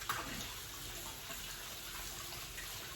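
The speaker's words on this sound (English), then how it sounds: "I actually do have to wash my hands" Steady running water from a kitchen tap as hands are washed during cooking, a continuous broadband wash heard alone at moderate level without talk.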